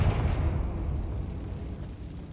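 In the Hogwarts Legacy video game, a Confringo spell sets off a fiery explosion, a deep rumbling boom that decays slowly into a low roar.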